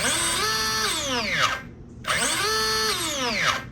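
The electric motor of a Hobao VTE2 RC car whines up in pitch and then winds down, twice in a row, loud and close with a steady buzzing hum underneath.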